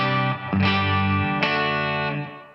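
Boss RE-20 Space Echo pedal processing a sustained, distorted guitar chord with reverb, swelling back in twice and ringing out loud and alone before fading.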